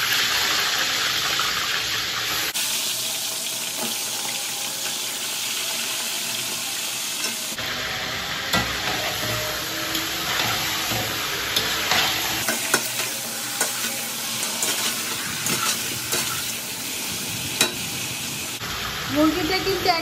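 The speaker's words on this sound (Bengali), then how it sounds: "একটা কড়াইতে সয়াবিন তেল দিয়েছি মুরগি ভাজার জন্য।" Chicken pieces fry in hot soybean oil in a wok, giving a loud, continuous sizzle with stirring scrapes and spatters, broken by several abrupt edits.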